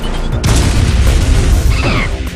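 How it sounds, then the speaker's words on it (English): A missile blast destroying a frozen enemy in the video game AM2R, a loud booming explosion with a sharp crack followed by crackling debris over a rumbling game background. "Once enemies are frozen, you can take them out with a single missile."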